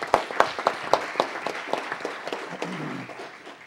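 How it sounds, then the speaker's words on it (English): Applause at a city council meeting, starting with a few sharp, distinct claps that spread into scattered clapping from a small room audience before fading out, with a little murmur underneath. "Everyone, please give me a round of applause."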